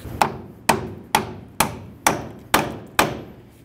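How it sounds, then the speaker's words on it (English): Seven sharp metallic strikes of a hammer and punch driving out a part while replacing upper control arms on a Ford Ranger, at an even pace, each ringing briefly before the next blow. "You can use a hammer and punch if needed. Continue driving that out."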